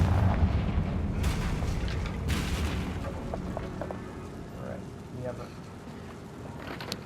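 A Bombarda spell explodes in Hogwarts Legacy: a heavy booming blast that rumbles away, followed by scattered debris clatter and crackles, with voice partly mixed in.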